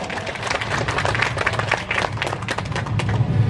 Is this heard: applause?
yes